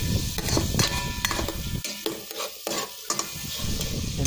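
Tomato, onion and garlic being sautéed for chicken sinigang, with a steady sizzle under repeated scraping stirs of a utensil in the pan, close and fairly loud.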